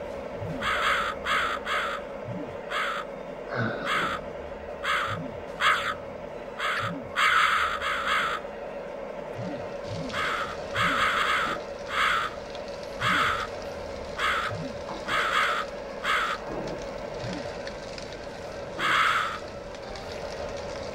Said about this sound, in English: I don't know where that crow came from.